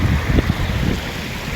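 River water rushing forcefully into the sea, a dense close roar of churning water and wind buffeting the microphone, loud and continuous over a short stretch.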